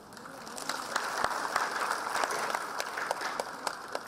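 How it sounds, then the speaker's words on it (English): Audience applause at the Harmony 2019 international conference, a sustained patter of many hands clapping at moderate level, with a few sharper individual claps standing out through the four seconds. "I did notice that he got the loudest of the claps"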